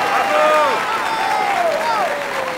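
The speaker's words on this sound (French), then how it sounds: "Un tonnerre d'applaudissements pour eux," A French TV studio audience applauds a dancing couple, a dense wash of clapping and crowd noise with melodic tones and whistling running over it, loud and steady throughout.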